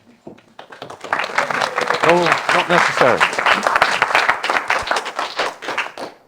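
An audience claps in dense, sustained applause that builds after a moment and carries on, while someone speaks briefly over it.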